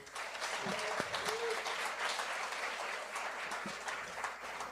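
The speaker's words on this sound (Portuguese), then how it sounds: "Vamos aplaudir o Senhor" Congregation at a church conference in Maceió claps for a couple asked to stand, a steady, moderately distant patter of many hands filling the hall, with a few brief tones and thumps in the background.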